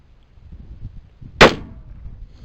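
A single 30-06 rifle shot with a reduced recoil 150gr soft point IMR 4895 load, one sharp loud crack outdoors with a brief decaying tail over faint background noise.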